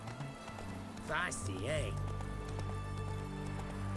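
Horse hooves clip-clop steadily in The Witcher 3: Hearts of Stone, a rhythmic ongoing trot under game music and a short spoken line, with a brief horse whinny-like sound early on.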